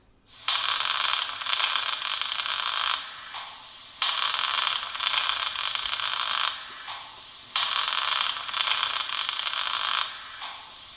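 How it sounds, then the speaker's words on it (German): A sound effect of electric welding from a Märklin H0 model tower railcar with motorised work platform: buzzing and crackling in three long bursts of harsh, steady hissing, each separated by a short pause. "Das Geräusch eines Elektroschweißvorgangs."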